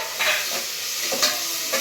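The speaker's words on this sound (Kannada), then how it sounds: "ಆಮೇಲೆ ಈರುಳ್ಳಿ ಹಾಕಿ ಚೆನ್ನಾಗಿ ಮಿಕ್ಸ್ ಮಾಡ್ಕೊಂಬಿಡೋಣ" Onions and coriander leaves stirred in hot oil for a tempering, with a soft continuous sizzle under several scraping stirs of a spoon in the pan, close up.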